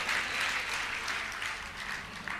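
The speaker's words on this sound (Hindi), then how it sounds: "ये बनियों की तालियां हैं, जैनियों की नहीं।" An audience at a Jain religious discourse claps steadily, a dense, fairly near round of applause with no voices over it.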